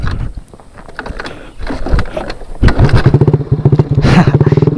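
A Honda Beat carburetor scooter is kick-started with a few mechanical clunks of the kickstart lever, then the engine catches and settles into a loud, close, rhythmic idle putter.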